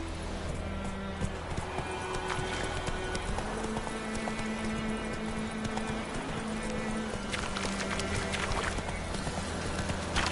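Roach the horse gallops in a video game, steady clip-clop hoofbeats running close and loud throughout, with occasional neighs and whinnies over a busy game soundscape.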